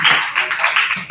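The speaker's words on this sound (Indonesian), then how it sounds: "Tepuk tangan dulu semuanya." A short burst of audience clapping at a student talk event, a few seconds of brisk, close hand claps with uneven rhythm, cut off quickly.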